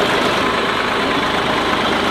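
A big tractor engine runs at a steady, loud, low throbbing idle during off-roading, continuous and unbroken throughout with no voices.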